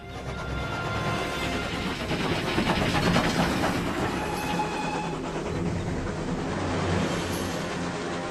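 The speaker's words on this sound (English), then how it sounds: "Have the conductor stop the train just ahead." A train runs along the rails in a steady, loud rumble with rhythmic clatter from the wheels and a faint high squeal, continuous throughout with no talking.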